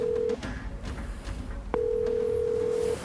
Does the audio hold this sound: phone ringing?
yes